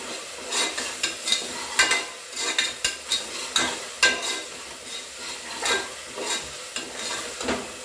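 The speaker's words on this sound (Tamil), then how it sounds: "இஞ்சி பூண்டு பேஸ்ட் ஆட் பண்ணோம்னே ஒரு 5 செகண்ட் நல்லா வதக்கிக்கோங்க, பச்சை வாடை போகிற அளவுக்கு" Ginger garlic paste sautéed in a pan for country chicken gravy, with repeated scraping stirs and utensil knocks over a continuous sizzle, close and fairly loud, no talking.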